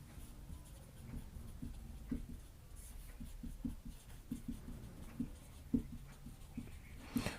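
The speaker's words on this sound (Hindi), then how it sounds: "मैं नीचे उदाहरण लिख रखा हूँ" Pen writing out examples on a board or paper during an organic chemistry lesson: faint scratchy strokes and light taps in an irregular rhythm, close and quiet, with no speech.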